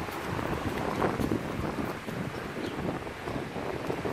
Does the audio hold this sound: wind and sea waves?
yes